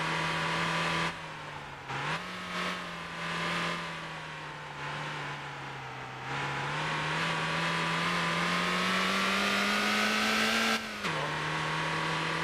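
Car engine droning steadily while driving a bumpy dirt road in the Motor Town video game, pitch rising and falling with throttle, interrupted by brief dips as the car jolts over bumps, close and alone.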